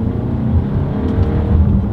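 A 2021 Volkswagen Arteon accelerating hard along a straight, with a steady engine drone inside the cabin and brief shifts in tone as the paddle shifters change gears, no talk.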